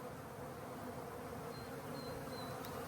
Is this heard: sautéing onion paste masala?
no